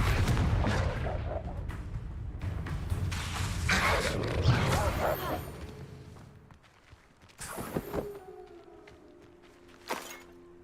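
Confringo blasting spell in the Hogwarts Legacy video game: a rumbling, explosive barrage of booms and crackles that fades out, followed by a couple of sharp, separate blasts.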